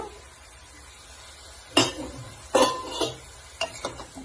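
Mixed vegetables stirred in a pan on a medium gas flame, a few distinct scraping, clattering strokes of a spoon against the pan after a quiet start, with faint sizzling beneath.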